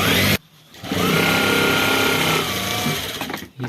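A sewing machine stitches a back pocket onto trousers, a loud close continuous motor whir after a short stop at the start, slowing near the end.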